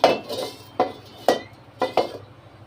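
A kadai of hot oil for frying fish is handled and swirled on the stove, giving several close metallic clanks and scrapes spaced irregularly, with no talk.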